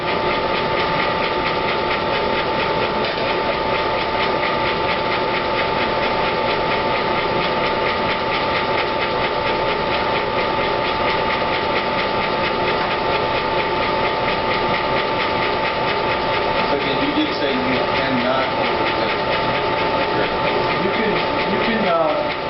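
An electric mixer whips egg yolks for a chocolate roulade, its motor a steady mechanical whir with a fixed tone and faint rattling beater clatter toward the end.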